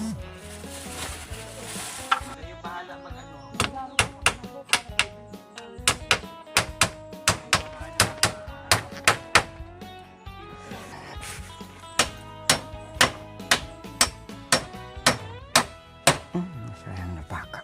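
Nails are hammered into bamboo while a chair is built, giving a long run of sharp, fairly close metallic strikes in a steady, uneven rhythm, with brief pauses and some voices talking around them.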